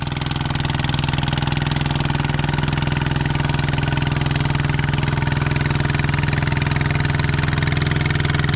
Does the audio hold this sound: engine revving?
yes